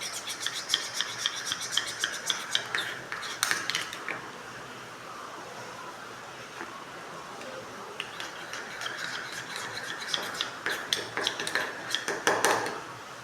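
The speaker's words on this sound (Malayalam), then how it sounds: "കുറച്ച് സമയം എടുത്ത് നല്ല രീതിയിലൊന്ന് മിക്സ് ചെയ്തെടുക്കണം കേട്ടോ" A spoon stirring manjistha powder into melted soap base, giving a steady scraping and rubbing against the container, busier at the start and end with a quieter stretch in the middle.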